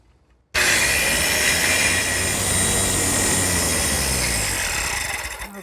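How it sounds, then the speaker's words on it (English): Power saw clipping wood corners at a 45-degree bevel, starting abruptly after a short quiet lead-in and cutting loudly and steadily for about five seconds before tapering off. "My saw is set at 45 degrees."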